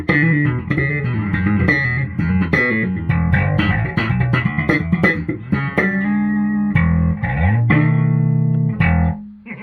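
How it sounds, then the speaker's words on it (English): A 1983 Squier '62 reissue bass guitar is played through effects, with a run of plucked notes that ring on and then slide and sustain, sounding loud and close with no voices. "So this bass basically has tone."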